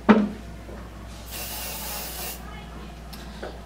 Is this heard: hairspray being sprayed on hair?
yes